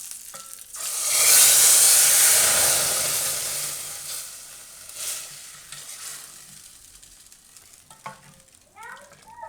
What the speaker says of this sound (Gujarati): તો વઘાર આપણે કઢીમાં નાખી દેવું.